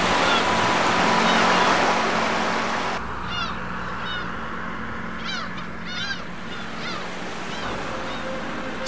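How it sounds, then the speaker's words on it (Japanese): Sea tide surging in over the wide tidal flats around Mont Saint-Michel at sunrise, a steady broadband rush of water with the loudest wash early on, while calling waterbirds chatter and honk faintly in the distance. "モンサンミッシェルを取り囲む干潟に突如として大量の海水が流れ込み"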